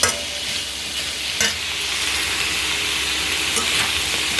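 Sliced ginger frying in a pan for a Kerala-style inji puli, giving a steady close sizzle throughout with a couple of brief stirring scrapes and no talk.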